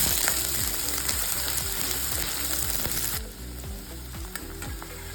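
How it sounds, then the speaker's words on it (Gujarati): Cabbage and capsicum sautéing in a pan for a pulao, a steady broadband sizzle with rhythmic scraping and clinking from stirring, loud and continuous, easing slightly partway through, with no voices. "અત્યારે મેં લગભગ અડધો કપ કોબી લીધેલી છે એ એડ કરીશું અને એની સાથે પાકો કેપ્સિકમ લઈશું અને એને સાંતળી લેવાના છે"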